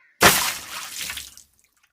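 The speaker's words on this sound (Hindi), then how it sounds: "अचानक से उसका कुल्हाड़ा फिसला और पानी में गिर गया" An axe slipping and dropping into river water while chopping wood on the bank, a single sudden splash followed by a brief fading wash of water, then quiet.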